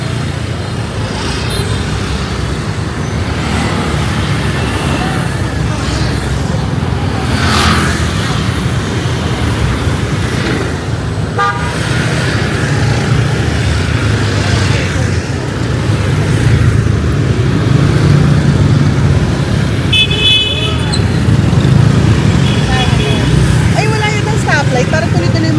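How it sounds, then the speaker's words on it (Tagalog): Fast road traffic streams past on a busy street in Saigon, a steady dense roar of cars and motorbikes that swells and recedes, with people talking over it. "Ang bilis ng mga sasakyan."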